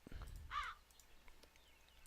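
A single faint crow caw sounds once in The Dark Eye: Chains of Satinav video game, short and distant over quiet low background ambience.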